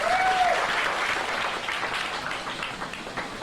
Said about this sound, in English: How about a big round of applause for both of our volunteers?